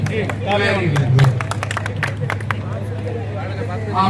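Applause from a crowd at a children's Arya Samaj camp quiz, a short burst of clapping with background chatter and a steady low hum throughout.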